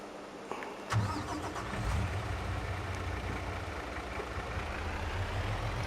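A truck engine cranks and fires up at a farm during a corn harvest, then settles into a steady, fairly loud rumbling idle that continues to the end with no talking.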